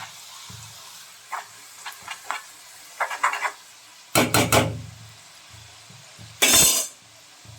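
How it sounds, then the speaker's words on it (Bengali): Thin shredded potatoes fry in oil, a low sizzle broken by sharp hissing bursts and light knocks as they are stirred, with no talking. "এ দেখো ঝুরি আলু ভাজা করছি"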